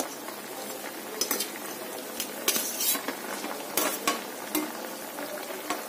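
Fried prawns stirred into a simmering pumpkin and potato curry, with a spoon scraping and clinking against the pot in irregular strokes over a constant bubbling sizzle, close and without voices.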